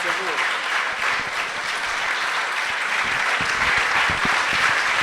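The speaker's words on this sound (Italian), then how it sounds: "da Ivan Rovato, al quale va un applauso" An audience in a hall applauds after an astronaut's public talk in Vittorio Veneto, with sustained, fairly close clapping from many hands that grows a little fuller toward the end, while faint voices murmur underneath.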